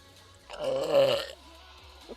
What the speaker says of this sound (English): oh my gosh, that like came out of